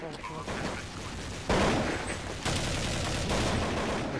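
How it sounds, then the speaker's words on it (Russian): Gunfire in the Half-Life video game, a dense, continuous burst of shots that grows louder partway through and stays heavy to the end, with no speech over it. "Вот я слышу, здесь какая-то стрельба идет."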